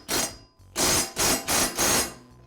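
Bolt securing a new blade to the blade adapter on the underside of a Husqvarna lawn mower deck being driven home, heard as four or five loud, closely spaced metallic bursts with short gaps, close by and with no talk.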